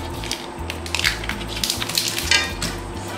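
Butter melting in a pan on high heat, heating up quickly for a giant Mexican-style beef burrito, crackling and sizzling steadily up close with sharp spattering pops throughout and no talking.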